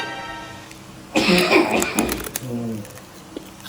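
A person with a persistent cough lets out a sudden burst of harsh coughing at close range, followed by a few smaller throat sounds, in a home setting with voices around.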